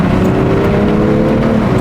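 A BMW M340i with a tuned B58 engine accelerating hard in a low gear, giving a loud, steady, continuous engine roar throughout with no voices.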